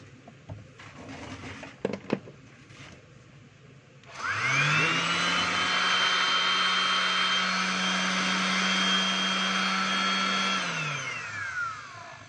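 A DeWalt DWE6423 random orbit sander starts up after a few light handling knocks, winds up to a steady loud whine with a strong tonal hum, runs evenly for several seconds, then spins down near the end.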